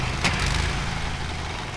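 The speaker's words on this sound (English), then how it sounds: "Why does this wood chipper need to have a noisy diesel engine?" Steady, noisy diesel engine of a wood chipper in BloodRayne 2, droning at a constant close idle throughout.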